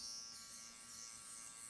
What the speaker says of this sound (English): this electric shaver, no promo, but this shit busts